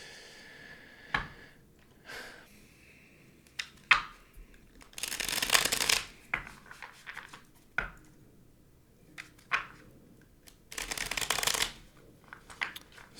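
A tarot deck being shuffled by hand, with repeated bursts of riffling cards at close range separated by short pauses and soft taps, with no talking.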